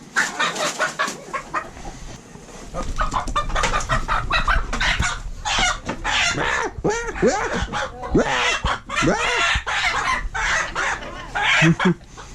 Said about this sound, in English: Don't worry about Big Rooster